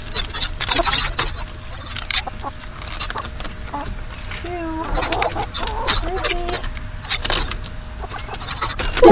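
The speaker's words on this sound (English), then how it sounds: "The chickens don't seem to want to cooperate with our intention to film them, do they?" Chickens clucking in a yard, several short clucks and calls at moderate distance amid background noise, with people talking faintly at times.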